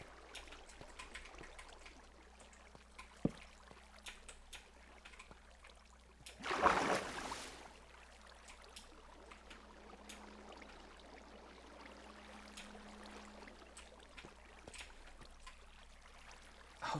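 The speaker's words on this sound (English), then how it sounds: "Oh, that's the waterfall." A waterfall flowing in the Minecraft modpack Vault Hunters gives a faint, steady trickling wash of water throughout, with a brief louder rushing swell near the middle.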